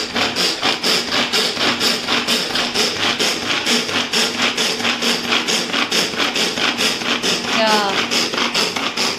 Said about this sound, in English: See, the onions are getting finely chopped.